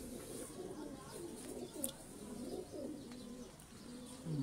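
Ali wale pigeons coo softly in a series of repeated, rolling low calls, fairly close and quiet, with faint background sounds between the coos.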